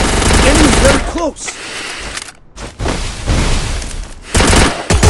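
Rapid bursts of UMP submachine gun fire in the Free Fire battle royale game, loud and close, with dense automatic firing across most of the clip, a brief lull midway, and a voice briefly heard amid the shots.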